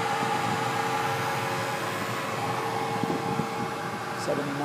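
An Eberspächer B4L gasoline heater runs in a Pinzgauer 710K, giving a steady, even broadband roar and hum with a few faint clicks near the end, no talk.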